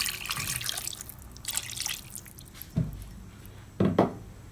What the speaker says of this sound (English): you will add the just 1/2 cup of water